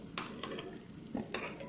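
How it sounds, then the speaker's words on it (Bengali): Fried eggs being lifted out of a frying pan: quiet sizzling oil under a few short spatula scrapes and light metallic taps, close and brief, with no speech. "এই ডিমগুলো সব ভাজা শেষ, এখন উঠাই ফেলবো।"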